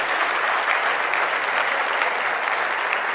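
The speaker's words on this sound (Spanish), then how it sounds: "Un aplauso a todos nuestros niños, por favor, hermanos." Church congregation applauding the children after their performance, a loud, even roar of many hands clapping that holds steady with no talk over it.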